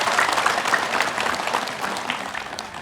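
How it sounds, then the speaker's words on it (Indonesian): An audience at an Islamic religious gathering claps steadily and loudly, a dense, even patter of many hands lasting a few seconds with no voices on top. "Boleh tepuk tangan semuanya."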